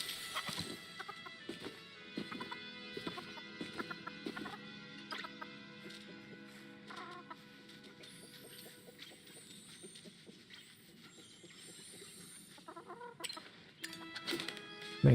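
A flock of chickens in the Palia video game cluck in scattered, irregular bursts over about fifteen seconds, fairly close and moderately loud with a few sharper calls near the end, and no talk.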